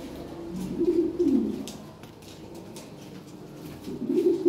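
Red Lahore pigeons coo in low, throaty bursts at the start and again near the end, close by and fairly soft against a quiet background.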